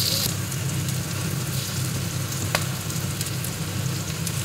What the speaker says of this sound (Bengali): কাঁঠালের বীজগুলো ফুটছে